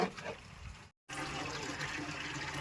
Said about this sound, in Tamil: இங்கே வந்து உலைக்கு வந்து தண்ணி பிடிச்சிட்டு இருக்காங்க சாப்பாட்டுக்கு உலவத்தி போட